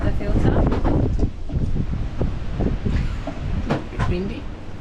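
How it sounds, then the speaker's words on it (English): Strong gusts of wind buffet the microphone outdoors while touring Australia, roaring in waves with rustling and a brief lull midway. "Windy."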